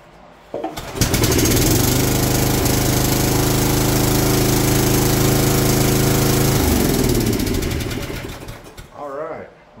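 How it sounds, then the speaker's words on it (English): A 25-year-old Snapper riding lawn mower's engine, fitted with a new muffler, starts up and runs at a loud, steady close drone for several seconds, then winds down, with a voice briefly speaking at the end. "let's fire it up again with the muffler this time"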